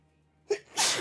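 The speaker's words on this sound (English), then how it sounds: "I'm going to sneeze." A single sharp human sneeze, close and loud, with a short intake of breath before the burst and no talk.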